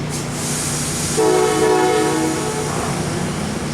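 An Amtrak train rolls past with a sustained, loud multi-tone horn blast lasting about a second, set against a steady rumble of rail noise and wheels.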